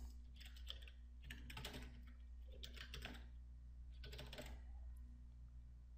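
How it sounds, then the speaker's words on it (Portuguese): A domain administrator password is typed on a computer keyboard during Windows Server 2008 R2 and Windows 7 setup, giving quiet clusters of key clicks over a steady low hum. "digite a senha do administrador do domínio"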